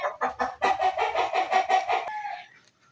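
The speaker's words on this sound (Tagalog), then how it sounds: "Alam, may manok." A chicken clucks in a quick rhythmic series of loud, close calls, ending in a longer drawn-out squawk before fading into quiet.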